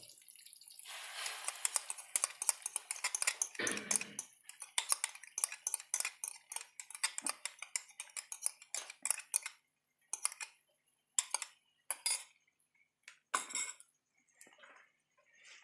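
Eggs being whisked in a bowl with a utensil, a rapid close series of clinks and taps against the bowl that later breaks into shorter bursts with pauses, alone with no voices.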